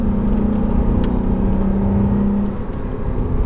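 Engine of a 1987 Porsche 928 S4 V8 on a downshift, a steady loud droning hum with a sustained tone that drops away near the end, heard from inside the car.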